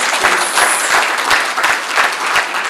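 Colloquium audience applauding a research presenter after his report; loud, close clapping with distinct individual claps standing out through a brief, steady burst.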